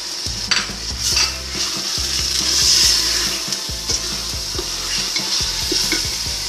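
Spices and salt fry in a pot for chicken soup with a loud, close sizzle. Quick rhythmic stirring scrapes run through it, with no voices.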